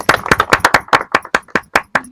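Hands clap in a quick, even rhythm at a village Diwali artists' award ceremony, about ten crisp claps, close and fairly loud, with no voices over them.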